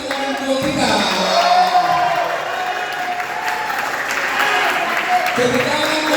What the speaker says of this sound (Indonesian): Yang ketiga, tepuk tangan untuk orang tua kita.